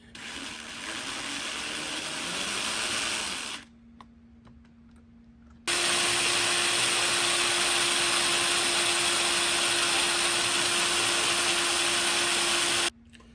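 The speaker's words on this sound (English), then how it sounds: "you're drilling right down through the center of the pop rivet" A power drill whines at a steady high pitch drilling out a pop rivet on a car, pauses briefly, then runs again loud and constant for several seconds.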